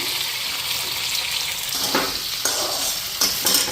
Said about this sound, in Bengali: আলুটা ভেজে নিই এখন, এটার লগে একলগে ভেজে নিতেছি।